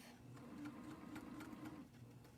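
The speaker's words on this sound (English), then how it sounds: "I'm going to make sure my machine starts and stops in the needle down position" A sewing machine runs steadily, stitching a curved quilt seam in pieced fabric, with a continuous close motor hum and rapid needle rhythm that eases slightly near the end.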